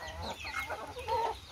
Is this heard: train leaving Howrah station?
no